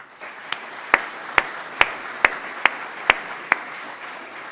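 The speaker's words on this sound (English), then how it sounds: "Let's give them applause right now." Applause at a community meeting, given to thank the volunteers: about eight evenly spaced claps land in a steady rhythm over a low room murmur, with no voices.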